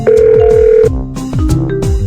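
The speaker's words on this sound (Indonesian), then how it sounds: "ayo kita telepon ayahmu." In a BabyBus children's game, a telephone rings in a short synthetic tone followed by bright chiming blips, close and clear.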